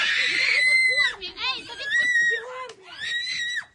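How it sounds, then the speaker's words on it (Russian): A woman screams in loud, piercing bursts during a street confrontation with civilian-clothed officials, her cries rising and breaking repeatedly amid the commotion. "женщина орет"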